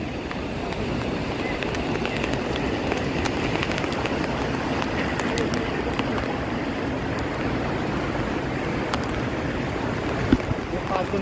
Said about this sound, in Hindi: ये देखो पानी का बहाव